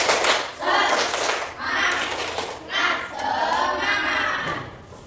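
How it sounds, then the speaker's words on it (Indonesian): A primary school class does a rhythmic group clapping chant during a morning counselling lesson, with bursts of clapping and voices in quick sets and short pauses between them. "Kita tepuk semangat dulu ya. Oke, tepuk semangat"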